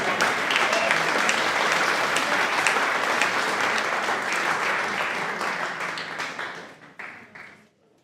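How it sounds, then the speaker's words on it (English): Audience applause at a county council awards ceremony, brisk and sustained for several seconds, then tapering off into scattered claps before fading out. "Give them a round of applause."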